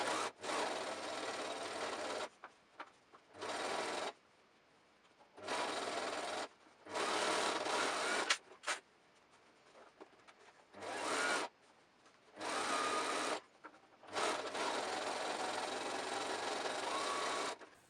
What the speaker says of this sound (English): change your settings and start top stitching